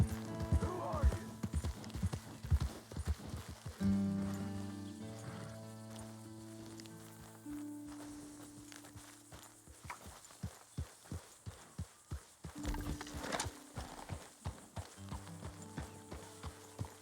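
Steady clip-clopping horse hooves beat rhythmically in Red Dead Redemption 2 under music and sporadic voices, with a louder thud near the end.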